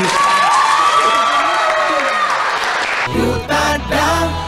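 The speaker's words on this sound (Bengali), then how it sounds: "ওর জন্য একটু জোরে হাততালি।" Cheering and applause rise from a college quiz and game show audience, a loud sustained crowd roar with whoops and shouts that cuts off partway through, followed by a few voices talking.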